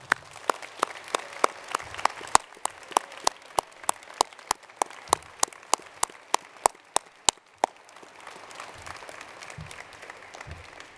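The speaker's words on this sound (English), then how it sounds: "start off with a very significant round of applause for the audience and for" Audience at a university summer graduation ceremony claps in a sparse, steady round, individual sharp claps spaced evenly for several seconds before fading into quiet room noise.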